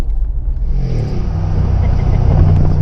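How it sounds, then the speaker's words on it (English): A Brabus G700 engine rumbles and revs through its side-exit exhaust, a deep loud growl building steadily and holding close by. "who doesn't love a side exit exhaust?"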